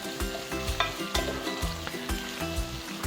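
Fermented soybean paste stir-fried in beef fat over low heat, a close, steady sizzle broken by rhythmic scrapes and clacks of a spatula against the pot, with no voices.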